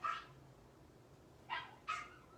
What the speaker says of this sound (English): Sorry about all the dogs barking.